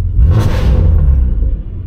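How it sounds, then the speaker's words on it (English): A deep, loud exhaust rumble from a straight-piped BMW M2 (G87) in sport mode roars steadily for a couple of seconds, heavy low-end drone with a brief whooshing rise. "Car is so loud."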